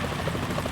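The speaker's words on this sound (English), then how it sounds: "Is that a chopper I just heard?" Helicopter rotor from the video game Metal Gear Solid 2, a continuous low thumping drone with a broad whooshing wash, steady and fairly loud, with no voices.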